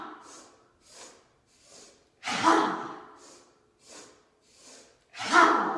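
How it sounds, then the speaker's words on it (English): Short sharp sniffs in sets of three through the nose, each set ending in a loud, forceful open-mouthed exhale, repeated twice. "So it's 3 sniffs and a ha."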